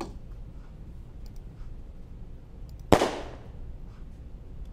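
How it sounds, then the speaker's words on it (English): A single sharp, loud impact sound effect of a weapon staff striking a body fast lands once in the middle of near silence, cracking briefly and then trailing away quickly. "Weapon staff hit body fast."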